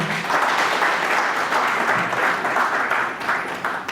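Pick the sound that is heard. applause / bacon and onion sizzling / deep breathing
applause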